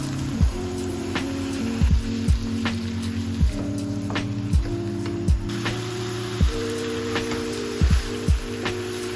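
Pork and onion for Korean jeyuk-deopbap sizzle steadily in a pan, a constant soft hiss broken by repeated clacks and scrapes of a utensil against the pan.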